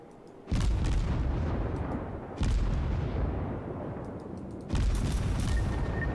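Naval ship guns firing in the game World of Warships: three loud, deep salvos a couple of seconds apart, each followed by a long rumbling decay.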